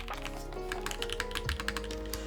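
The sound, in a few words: typing on Aaru Divine TKL mechanical keyboard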